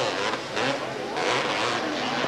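Suzuki and Honda quad ATVs race closely together on a Washington track, their engines forming a dense, loud, continuous roar with rising and falling revs.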